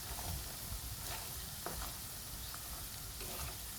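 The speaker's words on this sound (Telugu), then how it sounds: "ఇలా మనం కలుపుకోవాలి కొద్దిసేపు." Chicken pickle (pachadi) is stirred in hot oil, giving a steady sizzling, frying hiss with soft scraping strokes and a few sharper clicks throughout, close and continuous.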